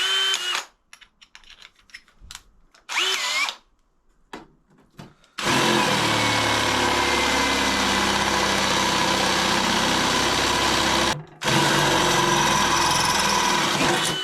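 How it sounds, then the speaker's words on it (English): Scattered clicks and short bursts give way to a long, loud, steady power drill run enlarging a hole for an under-seat fuel tank on a BMW adventure motorcycle, briefly stopping and then starting again. "we've got to drill a bigger hole."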